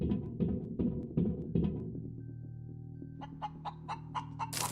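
A chicken in the space survival game Breathedge lets out a rapid series of loud clucks, then a pause with a faint hum, followed by another run of sharper, higher clucks at close range.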